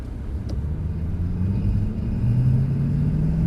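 A Mercedes-Benz C63 Black Series drives at moderate speed, its engine a steady low rumble with a rising tone toward the end, fairly close and uninterrupted by speech.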